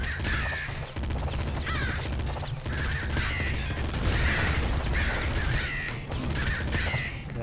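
Enemy birds in the video game Nuclear Throne caw repeatedly in harsh bursts, mixed with rapid gunfire and clattering game effects over a constant low hum.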